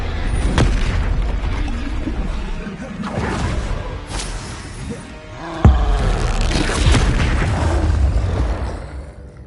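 Spell explosions and magical blasts in the video game Hogwarts Legacy, a dense run of booms, whooshes and bursts with a sharp loud impact just before the midpoint, alone with no talk.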